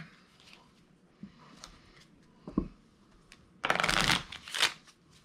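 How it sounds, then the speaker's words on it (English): Playing cards are riffled and shuffled up close, a quick burst of flapping card noise after a few soft handling sounds. "all the other hands and cards get shuffled back into the deck"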